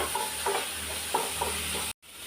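Tomatoes, onion and potato are sautéed in a pan, with a constant close sizzle and several light scraping stirs of a spoon, ending in a brief cut to silence, with no talking.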